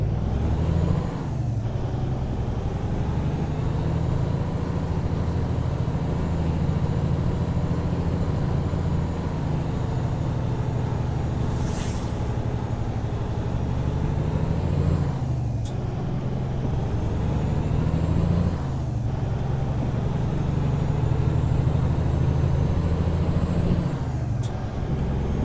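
Simulated heavy truck with an automatic transmission rolling along in American Truck Simulator, a steady low engine drone with tire and road noise throughout, a brief hiss near the middle and slight shifts in tone, no talking.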